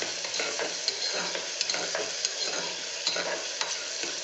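Onions sizzle steadily in a hot pan while being stirred for a beans and peas curry, a continuous close crackling hiss with small scraping bursts and no voices.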